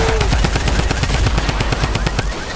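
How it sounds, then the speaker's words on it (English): Rapid automatic gunfire from a first-person shooter game, a loud steady rattle of evenly spaced shots that carries on without a break through the whole stretch. "Are you shooting someone?"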